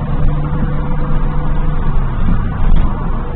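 A Datsun Z car's engine pulls steadily at around 3,000 rpm from inside the cabin, a continuous loud drone with a steady low hum and slight surges, no talking.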